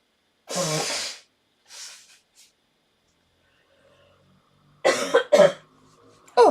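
Close, loud bursts of sneezing and nose blowing indoors, with a long blast followed by a shorter one, a quiet pause, then two sharp sneezes in quick succession.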